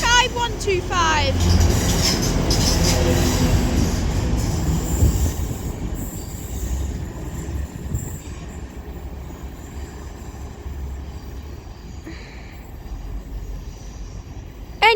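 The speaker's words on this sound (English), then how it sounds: "this double Transpennine Express Class 185 passes through Deansgate now" A double Transpennine Express Class 185 diesel train passes through Deansgate station with a loud close rumble and sharp wheel squeal that slowly fade into rolling clatter, while a voice speaks briefly near the start.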